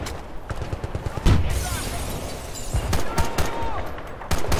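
Scattered gunfire and sharp impacts in the video game Battlefield: Bad Company 2, loud irregular shots and bursts spread across the clip amid battle noise, with an excited voice talking over it.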